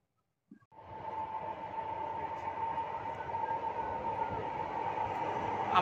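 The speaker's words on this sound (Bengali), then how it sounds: "সেই ট্রেনটি চলে যাচ্ছে, যে ট্রেনটি ঢাকা থেকে রাজবাড়ী যাবে" A train on the Dhaka to Rajbari line of the Padma Bridge rail link rolls past nearby. After a moment of quiet a steady loud rumble with a droning hum sets in and keeps building to the end.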